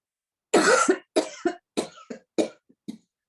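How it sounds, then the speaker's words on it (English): A person doing a yoga breathing exercise coughs in a series of short forceful bursts, close and clear, the coughs getting weaker toward the end with silence between them. "This time we take a deep breath and we cough."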